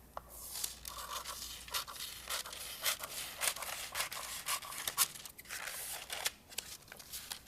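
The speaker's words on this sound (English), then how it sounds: "then crease it, and then cut along this line" Scissors cut through a folded paper square along a crease, a run of crisp separate snips and crunching slices in irregular rhythm, close and clear with no talk.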